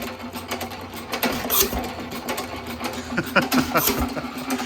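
A 1917 Economy hit-and-miss engine, blowing heavily past the piston, runs with a fast mechanical clatter and rhythmic knocking up close, loud and continuous for a few seconds.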